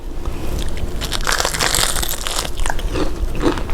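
Crunchy waffle-battered fried chicken doused in hot sauce being bitten repeatedly, with loud, close crackling crunches in a steady chewing rhythm and no talk.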